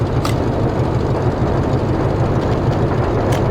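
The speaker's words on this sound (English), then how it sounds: "And the other trains are rolling in." Trains roll in at a rail station in the Workers & Resources city-building game, giving a steady, loud low rumble with faint higher clicks, and no voices.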